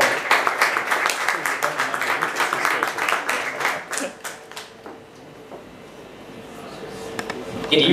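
A crowd at a Melbourne startup pitch night claps briskly and densely for several seconds before the applause thins out and fades into a quieter room where a voice is faintly heard.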